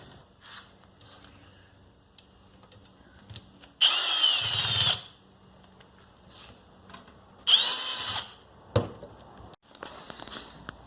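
A power tool bolts a Walbro 255 liter-per-hour fuel pump assembly for a Nissan 300ZX back together, heard as two loud, close bursts of about a second each, separated by quieter handling clatter and sharp clicks, with no talk.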